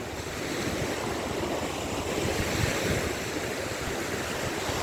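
Waves on the Gulf of Finland in cold mid-October weather wash steadily ashore, a continuous close roar of surf with wind rushing over the microphone and no voices.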